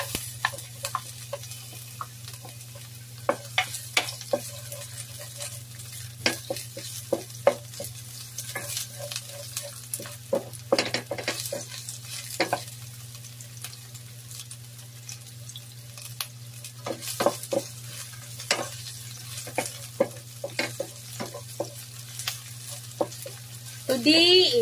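Onion fries in a hot pan for pancit guisado, a steady sizzle broken by frequent stirring scrapes and clinks of a utensil against the pan, close and continuous throughout.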